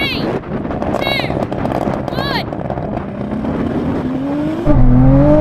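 An 1100hp Nissan GT-R, a Porsche 911 Turbo S and a rallycross car launch in a drag race, heard as loud, close, rising engine and turbo whine with sharp chirps, wind buffeting and a surge near the end.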